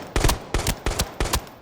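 Four quick bursts of automatic gunfire from Arena Breakout Infinite, each a tight double or triple shot, evenly spaced and loud, with no talk.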